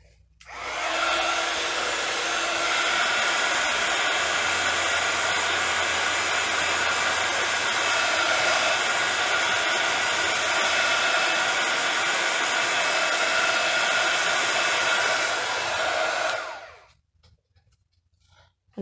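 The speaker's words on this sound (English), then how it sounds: "I might just hit that with my heat gun, because I think it's probably going to be quite wet." A heat gun drying wet paint gives a steady, loud, even blowing roar for about sixteen seconds, then cuts off abruptly.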